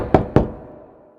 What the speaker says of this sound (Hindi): थम्बलीना ने दरवाजा खटखटाया